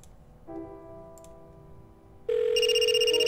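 Phone ringing from inside a trash can in a point-and-click adventure game: a steady electronic ring tone starts partway through and keeps going, loud and clear over a quieter tonal game background.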